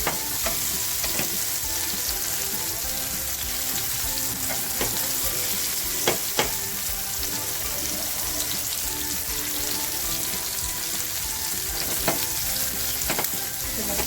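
Paneer pieces fry in hot oil in a pan and are stirred, giving a loud, steady sizzle with occasional scraping clinks throughout, alone without talk.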